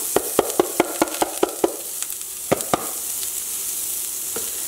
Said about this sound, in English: I'm going to add the shallots in first